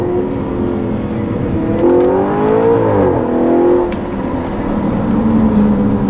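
A 2013 Audi RS5 engine revs and accelerates from inside the cabin, a loud, continuous rising and falling drone with a smooth throttle swell midway, heard alone with no talking.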